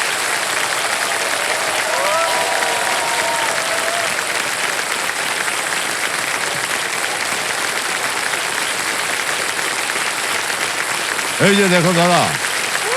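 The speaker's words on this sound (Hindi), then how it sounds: "तालियां बजती रहें इनके लिए" Studio audience applause on the KBC Season 17 quiz show after a contestant wins 5 lakh rupees, a loud, steady wash of clapping that runs throughout, with a host's voice speaking briefly over it.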